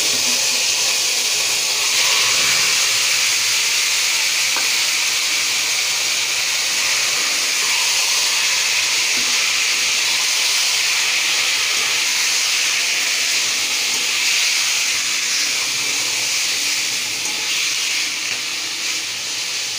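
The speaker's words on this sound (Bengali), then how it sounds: "এবার আমি চিকেনটা যে ম্যারিনেট করা ছিল আমি সেটা দিয়ে দেব" Yogurt-marinated chicken drops into hot oil tempered with cardamom, giving a loud, continuous broad sizzle and hiss that fades slightly toward the end.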